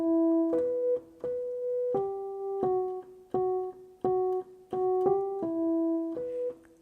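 Piano plays a pattern as a steady run of clear, separated eighth notes, moving between a few pitches with a soft, close, unaccompanied tone.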